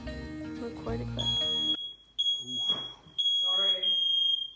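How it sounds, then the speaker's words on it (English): A household smoke detector sounds a steady high-pitched alarm tone in repeated chirps, with some background noise and speech-like sounds around it. "smoke detector is way smarter than I am"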